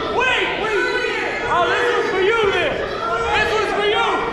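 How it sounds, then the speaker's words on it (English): Wrestling crowd at a My Bloody Valentine 2024 show cheering and shouting steadily throughout, a dense roar of many voices with rising yells and whoops, close and loud over the ring action. "Oh, the crowd turning up"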